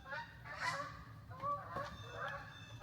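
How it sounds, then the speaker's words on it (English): Several migrating geese honk repeatedly at a distance, their calls overlapping in loose bursts over a quiet outdoor background. "The geese are starting to migrate."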